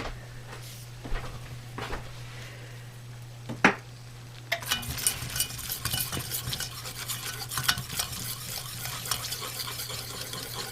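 A spatula stirs brown sauce for a steamed Christmas pudding, a few faint scrapes and a clink at first, then a continuous close stirring and bubbling texture over a low steady hum.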